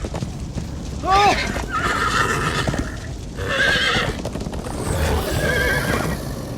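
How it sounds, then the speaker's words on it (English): A horse in Minecraft: Story Mode whinnies loudly several times over trotting hoofbeats, with voices talking in between. "Slow down, horse!"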